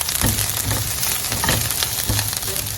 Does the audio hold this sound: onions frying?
yes